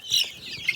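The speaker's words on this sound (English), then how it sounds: "I have a feeling that this little character right here is one of my Bielefelder roosters." A young Bielefelder rooster chick in a brooder gives a couple of high, thin peeps close to the microphone, short and sharp with a brief pause between them.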